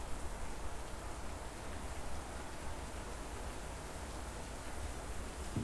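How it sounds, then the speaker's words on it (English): Heavy rain pouring steadily outside a room at home, a dense, even hiss with no let-up from start to finish, moderately quiet. "That rain's coming down hard."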